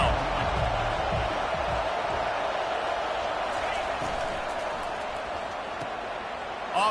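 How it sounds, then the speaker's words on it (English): A packed stadium crowd in an NCAA college football video game roars on third down, a dense, steady wash of cheering that holds for several seconds and swells slightly at the end, with talk underneath. "Decibels rising as the crowd gets behind this defense on third down."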